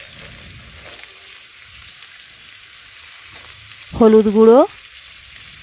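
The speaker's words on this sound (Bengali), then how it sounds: "একটু ভালোভাবে আলুর সাথে নাড়াচাড়া করে দেখুন আমি ভেজে নিচ্ছি" Thin-cut potatoes fry and sizzle in a pan with salt, turmeric and Kashmiri chili powder, a steady hiss throughout, and a voice briefly speaks over it near the end.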